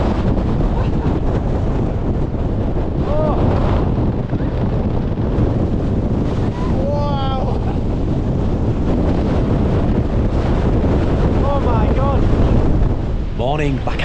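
Gale-force wind roars across a mountain trail in the Langdales of the Lake District, a loud, continuous buffeting rush battering the microphone for the whole stretch, with faint voice fragments almost buried beneath it.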